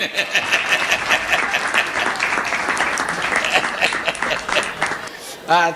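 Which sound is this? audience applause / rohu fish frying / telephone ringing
audience applause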